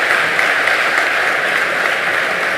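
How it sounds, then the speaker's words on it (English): Audience at a provincial budget speech applauds school learners, a loud, dense, continuous wash of clapping from many hands with no break. "We can give them a round of applause."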